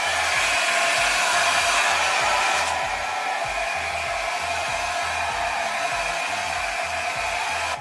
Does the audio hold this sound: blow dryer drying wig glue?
yes